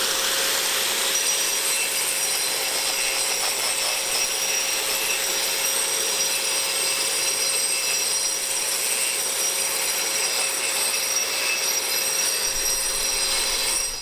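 Power tool cutting masonry fitted with a Herzo dust shroud, producing a continuous gritty, high-pitched grinding whine that holds steady and close for the whole stretch with no talking.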